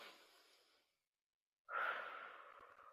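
A slow, deliberate breathing exercise: one long, soft airy exhale fades to silence, then a louder, fuller breath of air starts and holds steady, close and alone.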